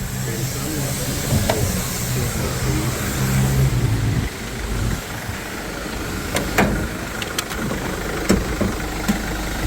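A minivan engine idles steadily with a smooth low hum and faint hiss, a few light clicks and taps sounding nearby, at a used car market.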